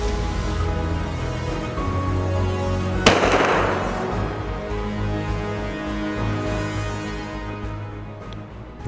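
Hunters fire rifles at wild boar during a forest hunt in Rusenski Lom. One sharp, loud shot cracks out and echoes, and fainter, more distant shots pop sporadically against a steady outdoor background.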